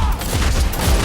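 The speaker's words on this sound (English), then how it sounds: "This is the Hellblaster volley gun, a multi-barrel siege weapon that can fire multiple rounds of ammunition at an enemy at once." A Hellblaster volley gun, a multi-barrel siege weapon in a Total War video game, lets off a dense rolling volley: overlapping booming shots fused into one continuous, loud, heavy burst about a second long.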